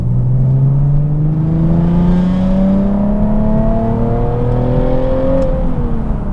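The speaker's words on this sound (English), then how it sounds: "do the same third gear pull to kind of compare the straight line acceleration" A Nissan 370Z Nismo or Audi TT-RS sports car accelerates hard in third gear out of a turn from about 30 mph, its engine note rising steadily and loudly under load with wind and road roar throughout.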